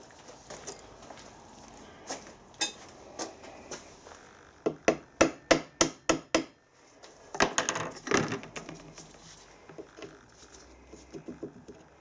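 Metal hammer blows drive a taper pin out of a Stuart Turner 400 engine: scattered taps at first, then a rapid run of about six sharp ringing strikes, followed by another burst of clustered knocks and lighter tapping, close and fairly loud.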